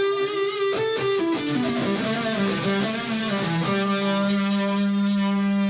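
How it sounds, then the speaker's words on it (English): Electric guitar played through the neck pickup of a Fernandes Monterey Elite with the sustainer engaged, a loud distorted tone of shifting notes that settles into a long, steady sustained note, no talk. "this is the sound of the sustainer neck pickup."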